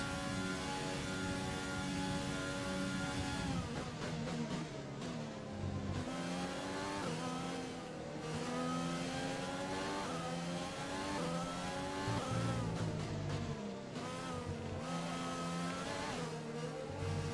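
Formula 1 car engine from the F1 2020 video game, racing at the Russian circuit on heavy fuel, roars continuously with rising and falling gear-change revs, loud and steady throughout with no talk.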